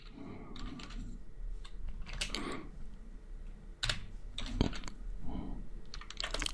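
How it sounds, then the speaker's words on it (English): CSS code is typed on a computer keyboard in uneven bursts of close, crisp key clicks with brief pauses between runs. "So you type in style, use the style element."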